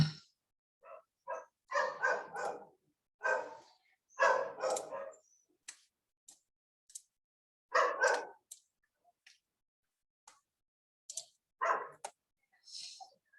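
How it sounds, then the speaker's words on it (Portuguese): Several dogs barking in short, irregular bursts of overlapping barks with quiet gaps between, fairly close and loud, no talking. "Alguns cachorros aí latindo"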